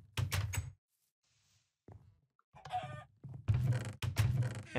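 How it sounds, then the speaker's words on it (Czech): Chicken in Minecraft being struck and killed by hand, a few short clucks and hit thunks in separate bursts with brief silent gaps, no talking. "Já jsem jí zabil rukou, tu slepici"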